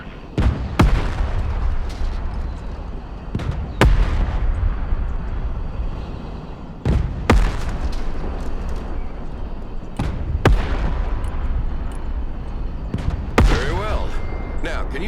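Heavy main-gun blasts from an M1 Abrams tank in the Broken Arrow game, several loud booming shots at irregular intervals over constant rumbling battle noise, with background speech.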